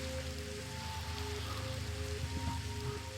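Steady rain falling in the Minecraft video game, a constant soft hiss of drops that continues without a break under faint tonal game music.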